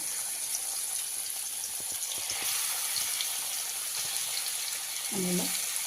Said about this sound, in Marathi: तेल गरम झालेलं आहे तर आपण जे वाटण केलेलं होतं ते त्याच्यामध्ये ॲड करूया